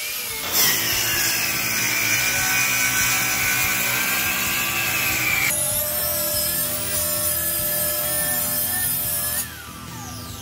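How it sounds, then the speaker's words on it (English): Track saw ripping through 3/4 inch plywood sheets, a loud steady high-pitched whine with the blade biting into wood, shifting pitch partway through and spinning down at the end. "we're going to be using our Win track saw"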